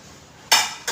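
A single metallic clank as a wok is set on the stove, followed by a brief second clink.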